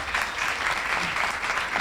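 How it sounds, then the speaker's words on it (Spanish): Audience at an academic panel on antinormative ways of living applauding, a steady, even wash of clapping for just under two seconds, moderately loud with no talk over it. "¡Otro aplauso!"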